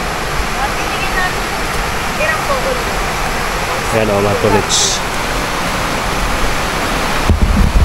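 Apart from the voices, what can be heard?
fast-flowing mountain river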